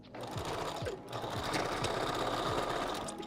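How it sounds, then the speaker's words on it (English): A sewing machine stitches across a 5x5 lace wig closure with a steady, close mechanical whir. Soft needle thumps come at an uneven pace through the run, and there is no speech. "I'm going to stitch right on top of there to make it seamless"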